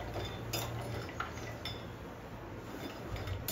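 Cashews stirred in a pan over low heat for kaju curry, giving soft scattered clinks and scrapes of the utensil against the pan, steady and close, with no talking.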